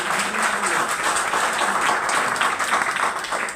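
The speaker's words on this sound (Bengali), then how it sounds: "নিজেদের জন্য তো একটা হাততালি।" An audience at an indoor health product training session claps together, a dense, steady wash of applause lasting the whole moment without any clear break.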